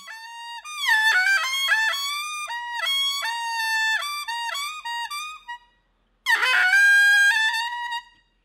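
Shrill, reedy whistle tones from a small toy made of a pen refill, blown in wavering bursts that slide up and down in pitch, a brief pause, then one last loud blast.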